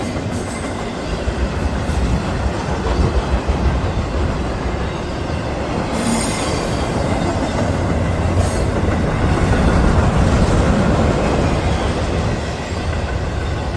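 A Norfolk Southern intermodal freight train carrying truck trailers rumbles past close by, a loud, sustained roar of rolling wheels with rhythmic clacking over rail joints and brief metallic squeals.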